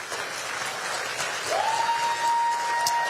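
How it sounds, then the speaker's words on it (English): Audience applause for candidates at a Virginia Democratic campaign event in a church, a steady wash of many hands clapping, with a faint sustained feedback-like tone rising in the second half. "Give a round of applause, please."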